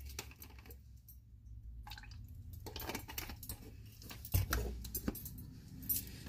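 Orange juice poured into a blender jug at home while making smoothies, a soft liquid splash and trickle with small clinks of the container, close and quiet with no talking.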